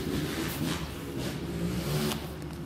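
A 200 cc Kawasaki motorcycle revs hard for a wheelie, a steady mid-pitched engine drone with rising throttle surges, close and continuous with no talk.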